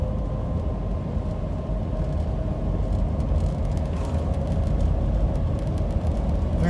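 A 1969 Shelby GT500 cruises in third gear at about 30 mph on a bumpy back road, heard from inside the cabin as a steady, loud low engine drone with road rumble and no talking.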